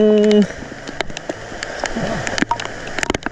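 Rain falling on a farm among bitter gourd and papaya plants, a steady patter of drops with crackling hits on surfaces, heard close after a short harmonic tone at the start.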